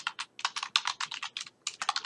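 Rapid taps on a smartphone touchscreen keyboard while a Wi-Fi password is entered, crisp clicks in quick irregular bursts, close and clear with no talking.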